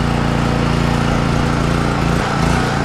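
A small generator engine runs rough at half choke because of a faulty carburetor, a loud close buzzing drone that sags and stumbles unevenly toward the end.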